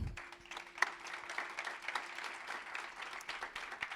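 Applause from an audience at a conference session, a steady wash of clapping held at a moderate, somewhat distant level for a few seconds with no voices over it.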